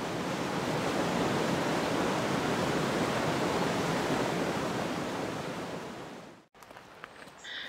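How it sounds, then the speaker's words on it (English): A waterfall rushing through a ten-foot-wide gap in the rock at Skelwith Bridge in the Lake District, a loud, dense, continuous roar that cuts off abruptly near the end, leaving quieter outdoor ambience. "can't spend all day looking at a waterfall"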